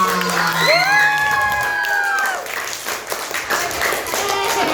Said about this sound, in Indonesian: Kasih tepuk tangan dulu buat kakak-kakaknya.